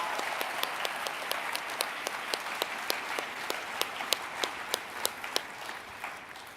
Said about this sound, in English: Can we give one extra round of applause for everyone who's done such a beautiful job this morning?